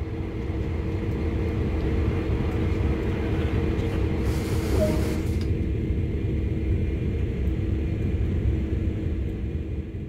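A CSX heavy freight locomotive in Train Sim World rumbles steadily with a low idling drone that holds throughout, joined by a short hissing burst partway through.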